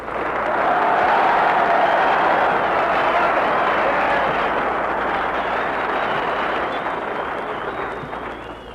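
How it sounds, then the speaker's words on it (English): Loud, sustained audience applause from a live radio show audience at a San Diego naval base, a dense wash of clapping that swells early and slowly tapers over several seconds with no talking. "that's more applause than I got"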